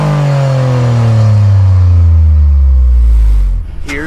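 Toyota GR Corolla three-cylinder turbo engine revved hard with traction control off, a loud close-up roar whose pitch climbs steadily before cutting off abruptly with a short whoosh at the end.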